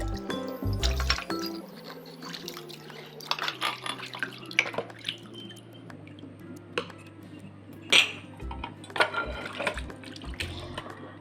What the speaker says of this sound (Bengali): তাই খুব জলদি আমি সব কিছু খুব সুন্দর করে ওয়াশ করে নিচ্ছি।